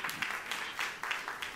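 Church congregation applauding, a short burst of dense, fairly faint clapping from many hands with a few louder swells, heard alone without talk.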